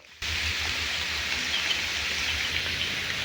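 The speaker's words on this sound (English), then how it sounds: "it's starting to really pour outside." Heavy rain pours outside, a constant broad hiss that starts abruptly after a brief near-silent moment and then holds steady.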